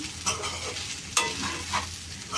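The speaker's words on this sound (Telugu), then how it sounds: "మళ్ళీ అంతే నిదానంగా గరిటతో తిప్పేసేస్తే సరిపోయిద్ది" A ladle stirs okra fry in a pan over low oil, giving a steady soft sizzle broken by a few scraping strokes and one sharp clink, close and without talk.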